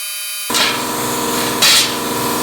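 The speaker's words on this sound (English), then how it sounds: "this time I'm going to cut it out on a plasma cutter" A plasma cutter slices through a metal scooter seat pan, giving a loud, continuous buzzing hiss that starts abruptly after a brief hum and swells again near the end.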